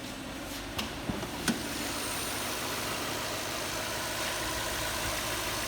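A 2006 Toyota 4Runner Limited V8 engine idles steadily with a smooth, even hum at close range, broken by a few faint clicks and knocks early on.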